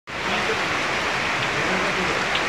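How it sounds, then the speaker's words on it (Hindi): A sudden, unseasonal rain shower falls steadily near the Aravalli hills, a continuous broadband hiss of rain that holds at even loudness for the whole stretch with no voices. "एकदम बारिश का मौसम भी नहीं था फिर भी बारिश आ गई"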